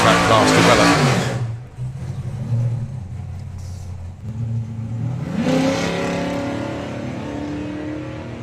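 Camaro hot rod roaring down a drag strip at a hot rod drag meet, engine loud and close at launch, fading, then a second rising engine howl building over steady crowd and track noise.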